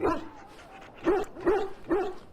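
Dogs in the video game Dragon Age: Origins bark in three or four sharp, evenly spaced bursts, close and fairly loud, with no talking over them.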